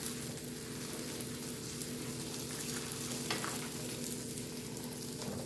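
A tortilla quesadilla with Brussels sprouts filling frying in a pan, giving a steady, even sizzle and crackle throughout, with no talking.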